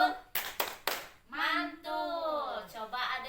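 Three sharp handclaps in a quick rhythm from a group at an Indonesian parenting session, close and loud, followed by a sung or chanted voice.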